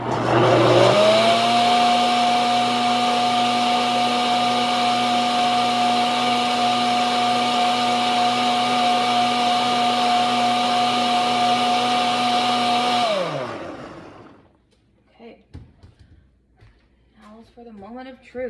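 Blender whirring steadily as it mixes tomato soup, a loud close motor drone that holds for about thirteen seconds, then winds down and stops, after which a voice speaks briefly.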